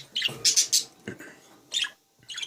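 Breeding birds at a nest with five eggs give a few sharp squawks and chirps close by, in short bursts separated by brief pauses, with no talk.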